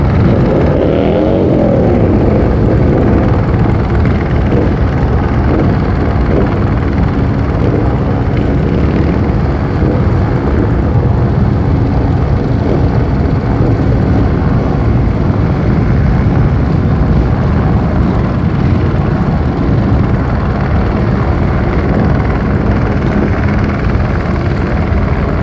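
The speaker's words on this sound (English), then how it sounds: "as we hear the helicopter" A helicopter flies low over a parking area at an Honor Flight gathering, its heavy rotor thrum loud and constant throughout, with no speech over it.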